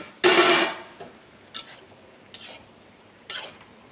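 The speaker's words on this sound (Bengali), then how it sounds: "একবার ঢাকনা সরিয়ে দেখে নিচ্ছি।" A metal lid comes off a cooking pot of fish-head curry with a loud scraping clatter, followed by three short, light taps and clinks spaced across a quiet kitchen, with no voices.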